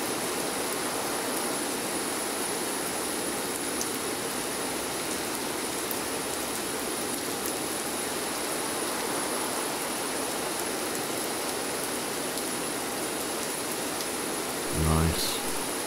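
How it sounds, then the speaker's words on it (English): Rain patters outside a Zibo 737 airliner cockpit in a flight simulator, a steady even hiss under a faint high electronic whine, with a brief low thump near the end. "So it's still raining."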